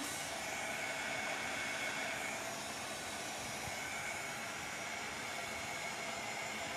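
A hair dryer runs steadily, drying paint on a craft plaque for a gourmet-space sign, a constant close airy roar that holds without change throughout.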